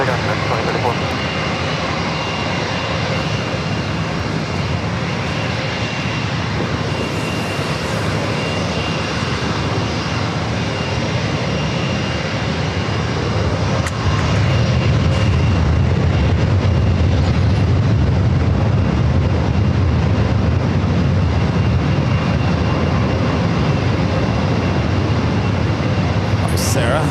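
An American Airlines jet takes off at San Diego airport, a steady broadband engine roar that swells louder in the second half, heard from a distance with radio chatter and talk over it.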